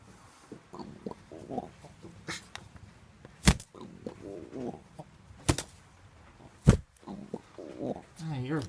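Pigeon in the rain giving soft low coos between scattered handling noises and a few sharp loud knocks, with a person talking nearby.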